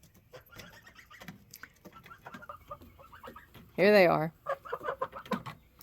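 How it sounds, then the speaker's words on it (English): Domestic geese honk and cackle close by at someone's feet, with one loud burst of calls standing out among quieter clucks, while a person speaks briefly. "You know, my geese."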